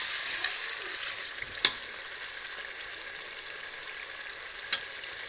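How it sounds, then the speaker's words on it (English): Pasta ragu with ginger frying in a pan while being stirred: a continuous bright sizzle with two sharp utensil knocks against the pan. "Mix it together."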